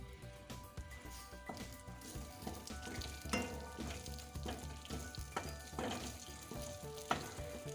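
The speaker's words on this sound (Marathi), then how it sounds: "एक चम्मच तेल टाकून घेऊ. तेजपत्ता टाकून घेऊ." Oil sizzles and crackles steadily in a pan as a bay leaf fries, with scattered pops and occasional stirring clatter; no one speaks.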